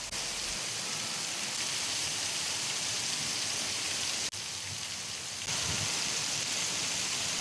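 Heavy rain pours down in a dense, steady hiss, constant and fairly loud with no voices, the downpour shifting only slightly in texture partway through.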